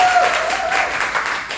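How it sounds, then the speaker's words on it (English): A brief burst of audience applause at a fundraising panel thanks a community college sponsor, moderately loud clapping filling the room and tapering off within about a second and a half. "Want to give them a round of applause"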